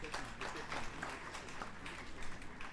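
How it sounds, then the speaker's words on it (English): Faint applause from a distant convocation audience, a soft continuous patter of clapping lasting a few seconds. "Help me to welcome him with a thunderous round of applause."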